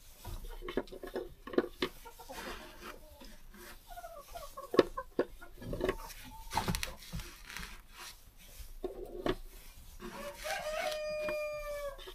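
Brahma and silkie chickens in a coop cluck and chatter with scattered scratching and rustling, soft and fairly close, and a rooster-like crow rises near the end.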